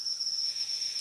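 Crickets raised on a cricket farm chirp in one continuous, high, shrill trill that stays steady and fairly loud throughout, with nothing else audible.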